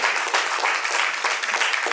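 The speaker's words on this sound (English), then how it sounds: "Big round of applause for our panelists." A conference audience applauds its panelists, the clapping dense and steady at close range for a couple of seconds, with no voices over it.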